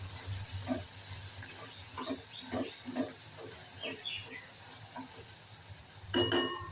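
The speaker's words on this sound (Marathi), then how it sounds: "आता हे छान परतून घेऊया" Masala spices, red chili powder, garam masala, coriander powder and Malvani masala, sautéed in a pan, a soft steady sizzle with intermittent stirring scrapes and clinks, close by.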